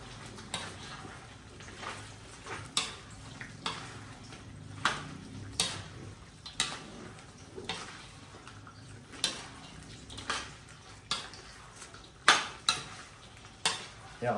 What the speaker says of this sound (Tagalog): Then, haluin natin yan.